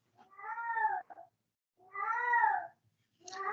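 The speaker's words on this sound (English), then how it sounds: "I don't know if you can hear that cat" An old cat, twenty years of age, lets out loud drawn-out meows, three long wavering calls separated by short silences, close to the microphone with no voices.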